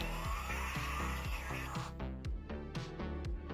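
A LEGO Soundwave toy plays an electronic sound effect, a loud burst of repeating mechanical pulses and transforming whirs with a sharp rhythmic pattern.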